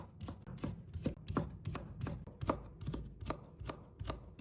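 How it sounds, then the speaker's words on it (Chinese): A knife chops steadily on a cutting board, slicing a carrot into thin strips in quick, even strokes, close and clear with no talking. "再把它切成细丝。"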